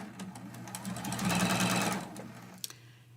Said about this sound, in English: I'm going to start sewing from the bottom.